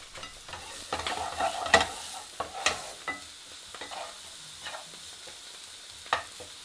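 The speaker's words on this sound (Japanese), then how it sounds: "エシャロットを入れてから火をつけて、このまま鍋に残っている旨味をきれいに剥がしていきます" Shallots cook in a frying pan, deglazing the pan's leftover browned juices for a pepper sauce, a soft sizzle with occasional scraping and stirring clicks from a utensil against the pan, close and quiet.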